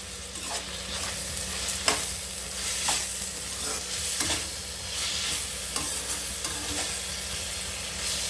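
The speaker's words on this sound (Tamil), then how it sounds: "தக்காளி வதங்குறப்ப சால்ட் போட்டால் சீக்கிரமாக வந்து வதங்கும்" Tomatoes with rock salt sautéing in a pan for mushroom biryani, a continuous hissing sizzle with regular scraping strokes of a spatula and no voices.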